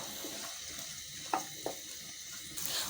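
Cloves, cardamom and cinnamon fry in oil with onion and green chillies, a soft steady sizzle with a few quick spoon clicks and a brief burst of hiss near the end.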